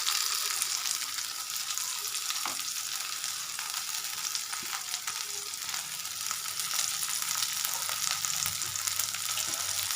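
Onion and masalas fry in a pan with a continuous, even sizzle that stays steady for the full ten seconds, broken only by a few faint clicks, with no voices.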